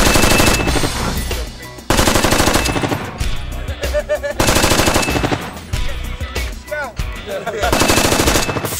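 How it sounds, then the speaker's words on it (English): A 30 cal minigun fires blank rounds on a film set, loud and close. It sounds as long, dense ripping bursts of rapid fire, broken by brief pauses, over a continuous heavy roar. "it's a 30 cal weapon. And with that weapon system, even though it's firing blank rounds, the actual overpressure that comes out is quite immense"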